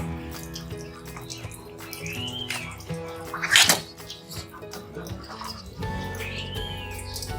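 Water runs from an overhead hose during chicken processing. A moderate splashing flow continues throughout, with a sharper hiss of spray near the middle and occasional tonal squeaks and clatter.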